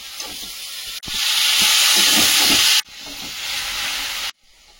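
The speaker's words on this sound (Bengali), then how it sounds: "একটু আলু ভাজা চাপিয়ে দিয়েছি" Potatoes frying in a pan in a village kitchen give a steady loud hiss and sizzle that cuts off abruptly twice, with no talking.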